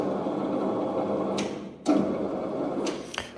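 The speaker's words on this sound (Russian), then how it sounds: "Включаем вал. Все привода у нас работают." An SR 4-2 thickness planer with its cutter shaft switched on gives a close, steady whirring hum, marked by a few sharp ticks and a sudden surge partway through.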